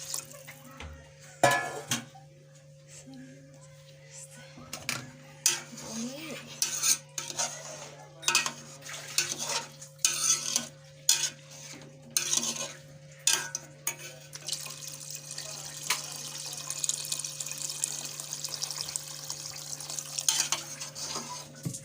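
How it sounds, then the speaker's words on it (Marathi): Egg biryani being stirred and mixed in a pot with a metal spoon, repeated scraping and clinking strokes close by at an irregular pace over a faint steady hum and light sizzle, with no talk. "सगळं असं मिक्स करून घ्यायचं आहे."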